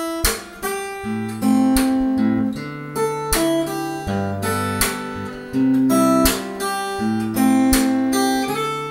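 Solo fingerstyle acoustic guitar picking the verse of a song, with open-string bass notes, plucked melody and percussive slaps in a steady bouncy rhythm, close and clear with no voices.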